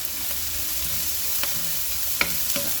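Onion and ginger sauté with curry leaves in a pan for chicken curry, giving a steady close sizzle with a few soft stirring scrapes and no talking.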